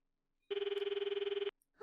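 An electronic telephone rings in the horror video game Corpse Party Blood Drive, one loud warbling burst lasting about a second, rapid and even, alone in otherwise quiet surroundings.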